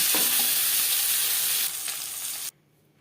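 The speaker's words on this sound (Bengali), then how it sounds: "পরের মাছ ভেজে নেব" Bata fish fry in oil in a kadai with a loud, dense, close sizzle that eases slightly partway through and then cuts off abruptly into near silence.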